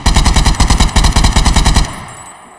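Rapid automatic gunfire from a gun mod in Minecraft, a loud fast even burst of about twenty shots that stops abruptly and leaves a short fading tail.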